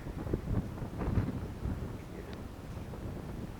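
Wind outdoors in Japan in May rushing across the microphone, a steady low rumble with gusty swells and no talking.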